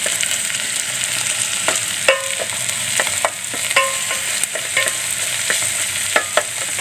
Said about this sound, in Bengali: এখন হচ্ছে পেঁয়াজ ভাজা চলছে